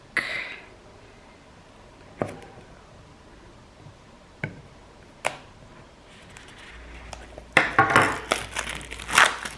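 Cardboard and plastic packaging of an AirPods box being cut and torn open, a few sharp isolated crackles spaced apart, then a dense burst of close crinkling and tearing at the end.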